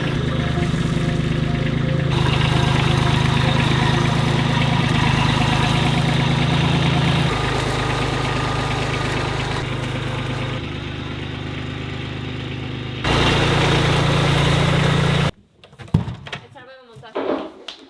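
A tractor engine idles with a steady low mechanical drone that shifts slightly in level several times, then cuts off, leaving a few scattered clunks and knocks.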